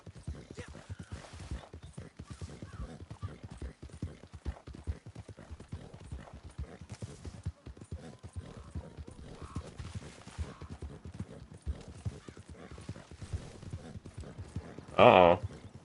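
Horse hooves clip-clop in a steady, quick rhythm in Red Dead Redemption 2 online, moderately loud and continuous, with a brief brighter burst near the end.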